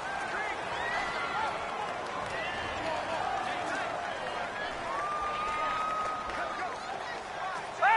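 Stadium crowd noise from the video game Madden NFL 19 during a Chargers vs Texans football game, a steady, loud roaring and cheering crowd throughout, with a commentator speaking over it.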